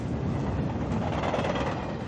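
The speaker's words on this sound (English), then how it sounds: "or a train up there." A distant train rumbles steadily, a broad mechanical roar with faint rhythmic rattling, carried on wind.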